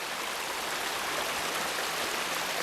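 Water rushing through a stream channel beside a hiking trail makes a continuous, even broadband roar that stays close and steady, with no voices.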